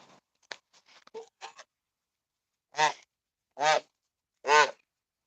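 Three loud, close goose honks spaced about a second apart, each a brassy nasal call, following a few faint scratchy clicks and rustles in an otherwise quiet outdoor setting.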